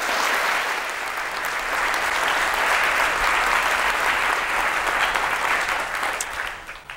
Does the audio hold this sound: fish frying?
no